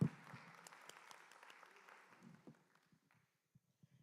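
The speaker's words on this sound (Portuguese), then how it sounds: "Isso mesmo, aplauda aí." A church congregation applauds, fairly soft and distant, starting strongly and then thinning out over about two seconds into a few scattered claps and quiet room noise.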